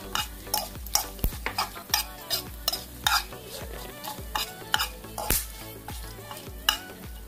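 Spices frying for Chettinad chicken curry, a bright sizzle broken by repeated scraping stirs of a spoon against the pan, roughly one or two strokes a second, close and clear without speech.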